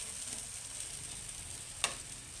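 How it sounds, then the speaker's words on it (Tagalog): Hot oil sizzles steadily in a pan as aromatics are sautéed for butter garlic shrimp and fish steak, a continuous close hiss broken by one sharp clack near the end. "Gigisa na natin ngayon"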